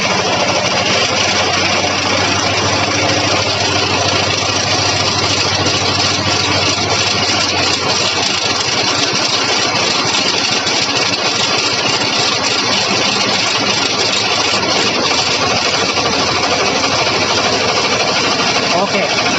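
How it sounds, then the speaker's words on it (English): A laboratory engine on a test rig runs steadily under varied load, a loud, continuous, dense mechanical drone with no breaks, close by, with speech faintly underneath. "Let us start the second trial now by varying the load on the engine."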